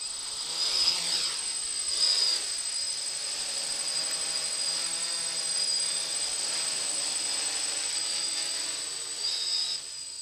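A DJI F550 hexacopter drone flies steadily in course lock mode, its rotors giving a continuous high-pitched whine and hiss at moderate distance with slight swells in loudness.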